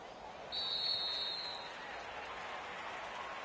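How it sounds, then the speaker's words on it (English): A home crowd at a New Orleans American football game applauds in a steady, distant wash of clapping and crowd noise, with a brief whistle near the start. "And the home crowd applauding."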